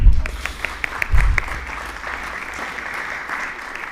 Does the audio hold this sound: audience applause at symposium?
yes